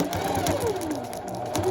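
A malfunctioning sewing machine gives a close, rapid mechanical rattling and whirring, with a gliding pitch sweeping up and down as the mechanism labours.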